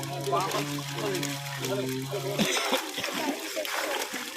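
Fishing net hauled up through pond water, splashing and trickling nearby while people talk over it.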